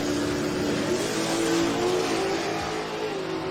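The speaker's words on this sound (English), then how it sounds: "This is a Whipple supercharged LS swapped Camaro." A Whipple-supercharged, LS-swapped Camaro screams down a drag strip at a summer drag racing event. A loud, sustained engine roar with a rising tone fills the whole stretch at close range, without a break and with no voices.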